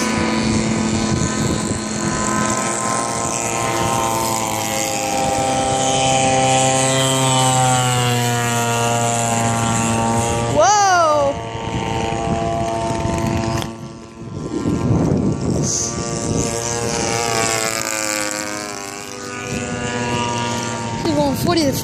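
A biplane's propeller engine drones steadily at an air show, its harmonic hum rising and falling as the aircraft passes, with people talking intermittently over it.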